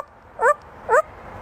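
A parrot imitates a dog barking, giving two short, close, clear yip-like barks about half a second apart over a quiet background.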